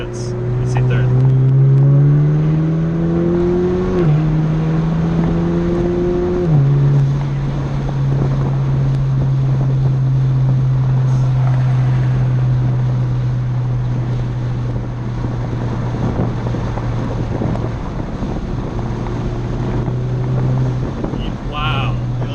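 A Chevrolet Camaro engine drones and rises in pitch as the car accelerates through the gears, loud and close inside the cabin with wind noise, while people talk over it.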